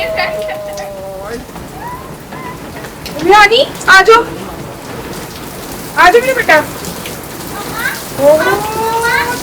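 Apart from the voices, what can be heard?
heavy rain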